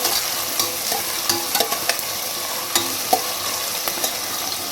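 Two big sliced onions sautéing in a pan for a Chettinad veg biryani, with a steady sizzle and the repeated scrape and clack of a spoon stirring, close and clear with no talk.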